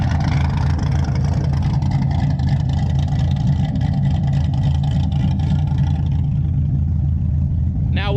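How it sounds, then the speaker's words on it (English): A car with American Racing headers, an X-pipe and an SLP Loudmouth exhaust idles loudly and steadily with a deep, continuous rumble close by. "This is actually American Racing headers, X-pipe, and SLP loudmouth exhaust."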